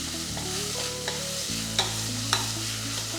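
Green chillies, ginger and garlic sauté in a pot for a chicken biryani, a steady close sizzle with a few sharp clinks of a spoon stirring against the metal, and no talk.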